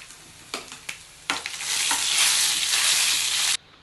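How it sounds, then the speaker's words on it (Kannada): Mustard seeds, cumin, garlic and dried chillies fry in hot oil in a pan: a few sharp clicks and pops give way to a loud, steady sizzle that cuts off abruptly, with no talk. "ಸ್ವಲ್ಪ ಸಾಸಿವೆ ಮತ್ತು ಜೀರಿಗೆ ಫ್ರೈ ಆಗಿದ್ದಂಗೆ ಸ್ವಲ್ಪ ಬೆಳ್ಳುಳ್ಳಿಯನ್ನು ಹಾಕೋತಾ ಇದ್ದೀನಿ ಒಂದೆರಡು ಒಣಮೆಣಸಿನ್ಕಾಯಿ ಸ್ವಲ್ಪ ಇದು ಫ್ರೈ ಆಗಲಿ"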